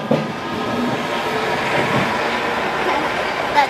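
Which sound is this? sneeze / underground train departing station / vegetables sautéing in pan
underground train departing station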